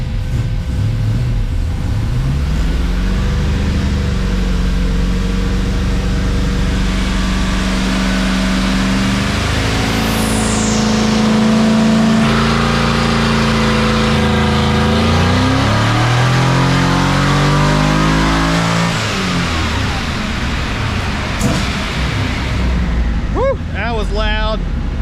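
A twin-turbo Camaro engine revs through a pull with the wastegates open, a loud close roar climbing in pitch, easing, and rising again with hissing and whooshing near the end.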